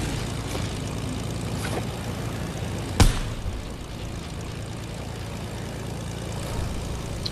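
A propeller plane flying in a video game gives off a steady, moderately loud engine drone throughout, broken by one sharp click-like hit partway through.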